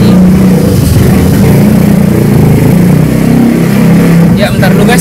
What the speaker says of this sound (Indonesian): ada suara motor ternyata